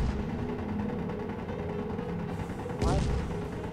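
Weapon fire in the space-building game Space Engineers, a continuous rumbling barrage that breaks into a sharp, louder burst near the end, with a voice talking over it.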